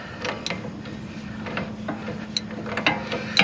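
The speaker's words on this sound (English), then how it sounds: "I'm taking this sway bar end link loose" Ratchet clicking in quick bursts while loosening an 18 mm sway bar end link bolt on a Jeep Wrangler front axle, close and fairly loud over a steady low hum.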